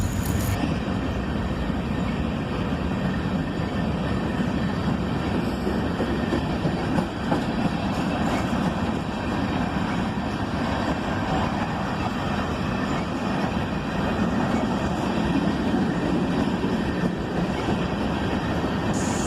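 A long CSX freight train of empty ore cars rolls steadily past behind AC-44CW locomotives, its wheels clattering over rail joints with a constant metallic rumble and occasional faint squeals, no voices.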